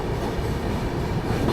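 Farakka Express train crossing the Farakka Barrage bridge: a loud, continuous rumble and rattle of rolling carriages heard from on board, steady throughout.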